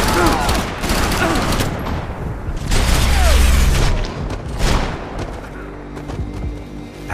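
Gunfire from Max Payne 3 rings out in loud, dense volleys of shots and booms, with mechanical clanks and brief voices mixed in.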